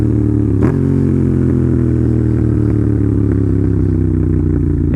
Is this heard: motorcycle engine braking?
yes